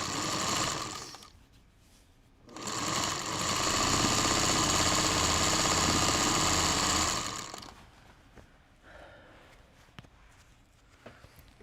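A sewing machine stitches quilt pieces at home in two bursts, a short run then a longer steady loud whir, followed by quiet handling clicks and rustles.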